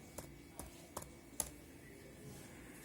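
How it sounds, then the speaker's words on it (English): Keystrokes on a Windows computer keyboard as a command is entered at the command prompt: four soft, evenly spaced taps over a steady background hum, then quiet. "I'll go to the command prompt and I'll type ipconfig"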